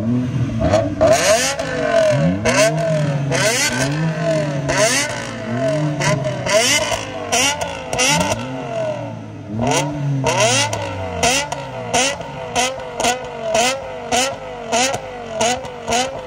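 BMW M3 G80 and M5 V10 engines revving hard nearby, overlapping sweeping rises and falls, then a string of short sharp blips toward the end, loud and with no voices.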